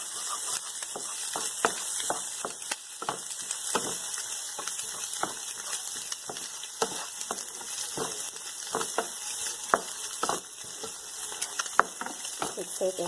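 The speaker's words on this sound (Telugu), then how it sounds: "అలాగే రైస్ కూడా, వెజిటబుల్స్ అన్నీ ఎగ్ మిక్స్ చేసుకోవాలి" Rice, vegetables and egg stir-fried together for chicken fried rice, a constant close sizzle broken by many quick spatula taps and scrapes against the pan, with no voices.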